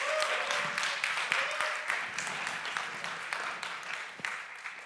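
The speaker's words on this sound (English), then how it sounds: "Give it a big round of applause for her." Audience applause for a panelist at a media forum panel, a dense patter of many hands clapping continuously for several seconds, with a few louder individual claps standing out.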